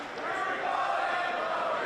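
Arena crowd at a national wrestling tournament rumbling and cheering for the home wrestler, a dense steady wash of voices throughout, fairly loud and continuous.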